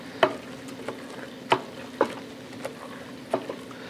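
A spoon stirs thick risotto in a pan near the end of cooking, giving soft, scraping, sticky strokes that recur every half second or so over a faint background hum.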